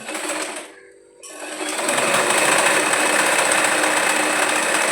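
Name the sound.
sewing machine stitching a cigarette pant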